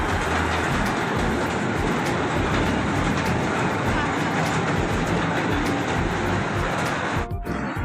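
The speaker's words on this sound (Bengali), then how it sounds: "so guys, right now train ছেড়ে দিছে" A small park train at Rana Eco Park in Pabna pulls away, its steady rumble and rail clatter filling the scene at close range, with a broad wash of noise throughout and no speech.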